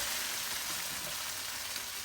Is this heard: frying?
yes